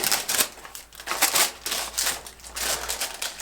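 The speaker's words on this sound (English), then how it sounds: "Now let's go ahead and start unwrapping this." Someone unwraps a GlossyBox beauty subscription box at close range, with rapid bursts of crinkling and tearing paper and plastic in an uneven rhythm.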